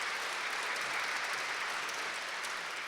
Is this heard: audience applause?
yes